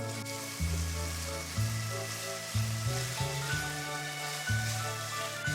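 Mushrooms with a little salt frying in a pan make a continuous close sizzle, heard beneath steady background music.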